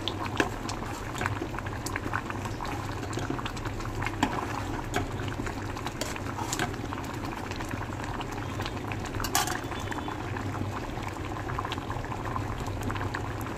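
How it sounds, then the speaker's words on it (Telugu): Semiya upma simmers on a low flame, giving a soft, steady bubbling and sputtering close by, with occasional small pops and scrapes over the even background. "ఇప్పుడు కొద్దిసేపు సిమ్లో పెట్టి"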